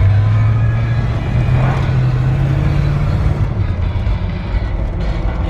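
A 1976 Ford F150 4x4 longbed truck with a 360 two-barrel V8 rumbles steadily at idle, loud and close, with a slight rise in pitch and a low, even drone throughout.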